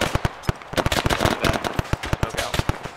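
Rapid, loud gunfire in a military shooter game, a dense run of sharp close shots and bursts rattling out in an irregular rhythm with no talking over it.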